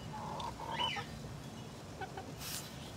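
Chickens being fed give soft, scattered clucks and a few brief calls at a distance, faint over a quiet outdoor background.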